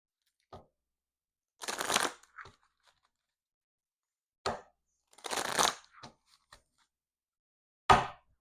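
Oracle Fairies tarot cards being shuffled in bursts, with quick riffling rustles and sharp taps separated by short silences.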